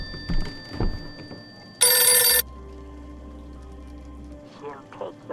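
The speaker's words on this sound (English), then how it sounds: "you get another phone call" A telephone rings once in the horror video game Visage, a loud, bright electronic bell burst lasting about half a second, followed by a low hum, with speech before and after.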